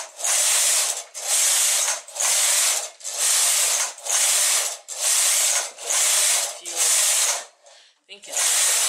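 An SK280 knitting machine carriage is pushed back and forth across the needle bed knitting rows of a gauge swatch, each pass a loud rasping whir lasting about half a second, repeating steadily eight times with short pauses.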